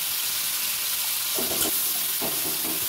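Tomatoes with turmeric frying in oil in a pan give a steady, close hiss of sizzling, with a few soft stirring scrapes near the middle and no voices.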